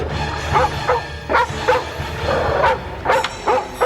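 A dog barks and yips in a series of short, repeated bursts at close range, with some whimpering between barks, in a scene from a Dracula television series.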